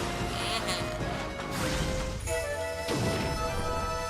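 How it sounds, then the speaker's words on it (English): A boulder blows apart in the video game Okami with a couple of loud crashing smashes over a busy, layered game soundtrack, short and close. "Let's explode this boulder."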